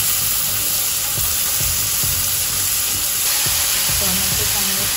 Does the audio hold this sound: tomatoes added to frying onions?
yes